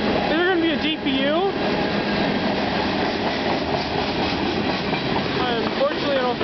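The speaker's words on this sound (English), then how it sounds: "This is a long train." A long CN freight train rolls past Bayview Junction, its cars keeping up a continuous rumbling clatter at close range while voices talk over the passing train.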